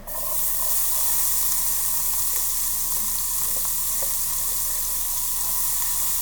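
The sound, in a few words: red onion frying in rendered bacon fat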